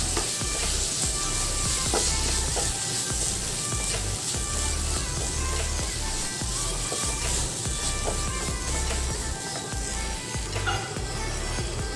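Ground minced meat for keema fry sizzles loudly and steadily in a hot pan, with a continuous crackling hiss and occasional scrape and clatter of stirring throughout, no voices.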